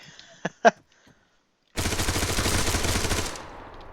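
Sustained automatic 5.56 rifle fire in Arma 3 PvP, a rapid, steady stream of loud shots lasting over a second after a few short clicks and handling sounds.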